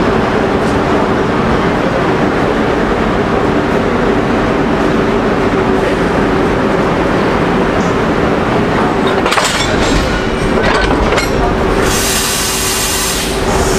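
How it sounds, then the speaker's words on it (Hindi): Deccan Express with WAG banker locomotives being coupled on to push a 10 to 12 coach train, giving a loud, steady rail rumble and a few sharper clanks and hisses near the end. "अब इनको यहाँ पर कनेक्ट किया जाएगा ताकि पूरी ट्रेन को और पुश मिले और पावर मिले"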